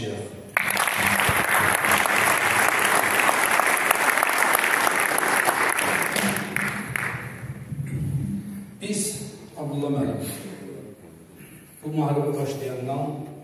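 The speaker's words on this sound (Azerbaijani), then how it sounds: "alqışlayaq" Sustained audience applause fills a commemorative event hall, loud and dense for several seconds before fading, followed by someone speaking over a microphone.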